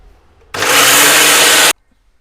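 A kitchen mixer grinder whirs loudly as it grinds coconut, a steady dense roar that starts abruptly, holds for about a second, and cuts off sharply, with near silence before and after.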